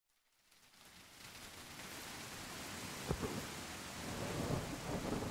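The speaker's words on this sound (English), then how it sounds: "We can even change this sunny day into a thunderstorm." Simulated thunderstorm effect in a software demo: a steady wash of heavy rain builds from silence into a broad, loud roar, with a thunder crack near the middle and rumbling swells toward the end.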